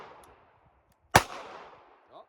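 A single sharp gunshot from a Ruger LCP MAX pistol, close and loud, with a short decaying echo after it, followed by a faint metallic click; quiet background murmur before the shot.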